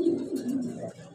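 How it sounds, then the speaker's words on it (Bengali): Pigeons coo nearby in low, throaty, rolling calls, a short soft burst of murmuring coos with no talking. "দেখতে পারতেছেন কবুতর"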